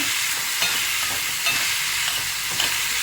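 Tomato sautéing in a pan for an aloo tomato curry: a continuous, close, moderately loud sizzle and hiss with occasional faint stirring scrapes and no voices.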